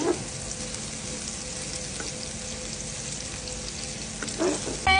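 Steady sizzling of garlic and chilies frying in a pan, with occasional scraping of a spoon stirring through it, close and continuous.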